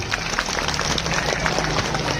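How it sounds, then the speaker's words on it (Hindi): Applause and cheering from a crowd at a school annual day celebration, dense and continuous, filling the whole moment at close range with some crowd noise mixed in. "अरे तो तालियां जोर से बजाएं।"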